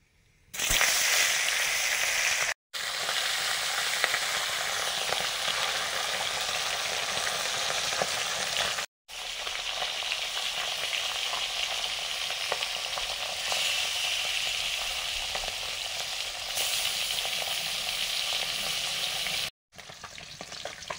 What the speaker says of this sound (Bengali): মা মাছগুলো কেটে দিয়েছে, নুন হলুদ মাখিয়ে নিয়েছি, এবার ভাজবো